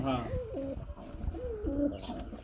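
Pigeons at a market coo in repeated rolling, throaty calls close by, with a low murmur of people and background noise underneath.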